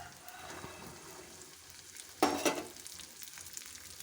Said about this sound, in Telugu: వీటిని ఆయిల్లోనే సాటే చేసుకోవాలి.